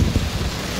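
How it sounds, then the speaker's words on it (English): Heavy rain pouring down outdoors, a loud dense rushing hiss with low rumbling weight beneath it, continuous through a brief moment with no voices. "it's raining heavily now"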